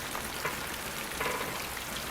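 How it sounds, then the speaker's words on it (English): Steady rain falls in the horror video game Fatal Frame III: The Tormented, a dense, even hiss of drops filling the whole two seconds with no pauses and no voices. "rain in games is always so satisfying"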